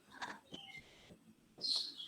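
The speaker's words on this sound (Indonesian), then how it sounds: "Burung wayahe ya." Birds call outdoors in a few scattered chirps and whistles, faint and mid-distance, with a brighter, louder call near the end.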